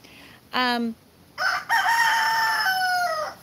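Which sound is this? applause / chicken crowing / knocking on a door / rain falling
chicken crowing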